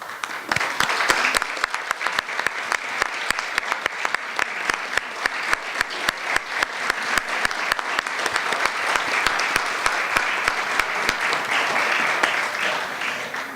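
Sustained applause from an audience in a room honouring volunteers, steady dense clapping at even loudness throughout, with no talk over it.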